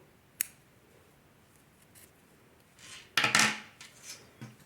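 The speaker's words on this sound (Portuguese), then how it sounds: "Agora, vamos cortar o fio." Scissors snipping crochet yarn, a sharp click early on, then a louder crisp cut with a short rustle and a few small clicks, close and quiet.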